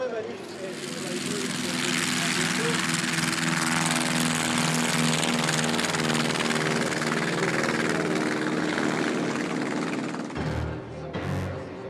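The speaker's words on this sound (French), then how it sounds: "Avions anglais, français et allemands s'élancent vers les nuages dans un véritable grondement." World War I English, French and German aircraft at the La Ferté-Alais air meeting create a loud sustained rumble of piston engines with droning harmonics, which cuts off sharply near the end, and a voice is heard under the roar.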